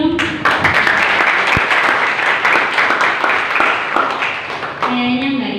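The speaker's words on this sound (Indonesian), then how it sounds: "Beri tepuk tangan dulu dong" A school student council candidate debate audience claps in a dense, sustained burst of applause, with voices briefly audible at the start and end.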